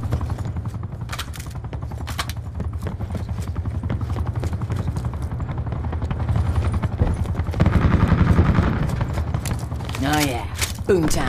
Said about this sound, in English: Identify attack helicopter threat.